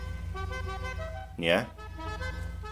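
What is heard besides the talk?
car horns in video game GTA Online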